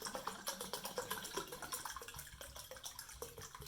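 A whole bottle of mulled-style red wine poured into a cooking pot, a faint, steady gurgling pour of liquid with a rhythmic glugging from the bottle neck, close and quiet.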